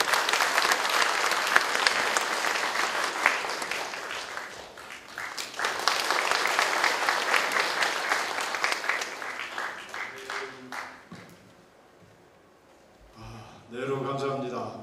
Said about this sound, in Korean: 힘찬 박수로 맞이해 주시기 바랍니다